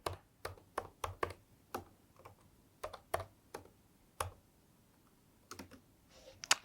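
A password being typed on a computer keyboard: a run of sharp, irregular key clicks in short bursts with pauses between, close and fairly quiet, with no voices.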